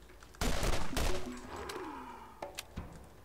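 Pistol shots ring out in Borderlands, two heavy close blasts in quick succession with rumbling tails, then a few lighter distant pops, all without voices.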